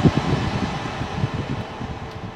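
A car air conditioner fan running at its highest setting, a steady, close whooshing rush of air with a low fluttering rumble and no pauses or voices.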